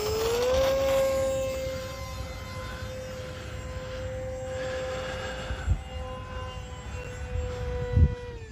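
Small RC airplane motor drones with a steady high-pitched whine, rising briefly then holding level, with a few soft bumps toward the end.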